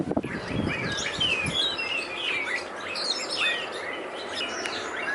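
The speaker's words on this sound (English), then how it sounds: "Whole lot of birds." Many birds chirp and whistle around a Mexican resort, a busy overlapping chorus of bright tweets and trills against a soft steady outdoor background, with no talking.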